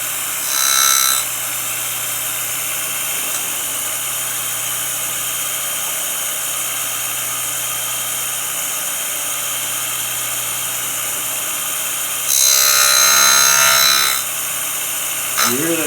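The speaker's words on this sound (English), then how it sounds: "Now we're gonna grind this flat." A Cincinnati surface grinder grinding metal flat gives a steady mechanical drone throughout, with two louder bursts of bright, high grinding whine near the start and near the end.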